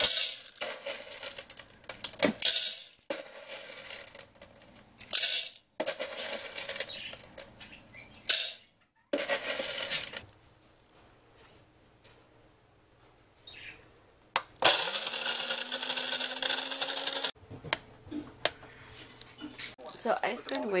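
Coffee being made produces loud bursts of clattering and rushing noise, some lasting a second or two, with a rising whirr near the end, broken by quieter gaps.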